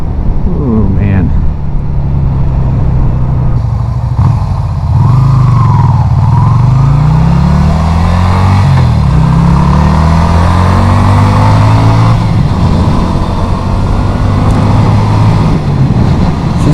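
A Yamaha Virago 250 motorcycle engine revs and pulls on the road. Pitch rises and falls through the gears under steady wind rush, loud and close throughout.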